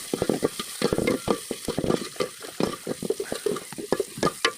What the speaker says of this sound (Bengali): এখন আমি তেল দিয়ে দেবো। এখন আমি 5 ফোড়ন দিয়ে দেবো।